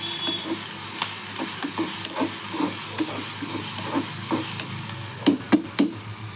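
Green chili paste sizzles in hot oil with mustard seeds and cumin, a soft continuous frying hiss broken by rhythmic scraping stirs of a spoon, close and moderate in loudness.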